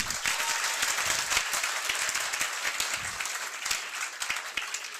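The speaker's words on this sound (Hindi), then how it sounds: "एक बार जोरदार अपने लिए तालियां बजाइए" A seminar audience in Haryana claps loudly and steadily for several seconds, a dense patter of many hands that slowly thins toward the end.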